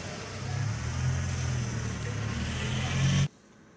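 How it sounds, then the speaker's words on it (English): A hot gasoline car engine runs steadily with a low rumble and broadband whir, then cuts off abruptly near the end, leaving quiet. "That's the sound of a hot, hungry car, right?"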